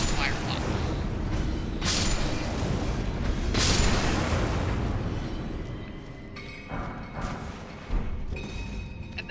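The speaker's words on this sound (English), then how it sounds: "I'm going to throw a fire pot in that... in here where all those rats are." A fire pot bursts among a pack of rats in Elden Ring, giving a heavy booming blast followed by a second thudding explosion and lingering crackle, loud and close, with game effects and faint talk underneath.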